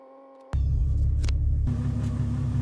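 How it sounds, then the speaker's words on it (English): A 1997–2001 Jeep Cherokee XJ with an AW4 automatic transmission: a quiet hum gives way to a loud, steady engine idle rumble close by. The tone deepens and thickens about a second later as the load changes. "Hold the brake down and shift through each gear, holding it there for about 30 seconds each."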